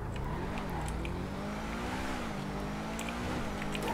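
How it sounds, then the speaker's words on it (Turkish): Engine of the Truffade Thrax supercar in GTA 5 Online, a steady low droning hum with gently rising and falling pitch, continuous and fairly quiet, with no talking. "Sesini ben çok beğendim bu arabanın."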